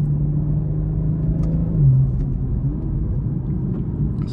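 A 2022 BMW M240i on a road drones steadily with a low engine and exhaust rumble while driving, a brief pitch shift midway, with no talking.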